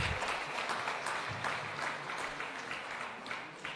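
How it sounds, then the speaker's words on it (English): An audience applauds at a business achievers' awards event, a dense, steady wash of many hands clapping that carries on throughout, with a faint voice in the background. "Let's welcome them with a big round of applause."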